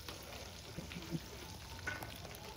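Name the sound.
garlic ginger paste frying with cumin in oil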